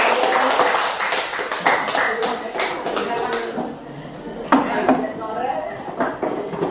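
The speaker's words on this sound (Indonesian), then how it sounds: "Tepuk tangan untuk semuanya." Applause from a group of students in a classroom, a dense patter of many hands clapping that carries on steadily for several seconds.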